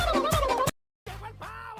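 A turkey gobbles in a loud warbling burst, then after a short silence gives another rattling gobble call, close and clear with no talk.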